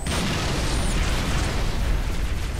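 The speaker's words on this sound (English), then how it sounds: "trying to throw a grenade at me" A grenade blast in the video game Halo Reach makes a dense, loud boom with a rumbling wash of noise that fills the whole short stretch without pause.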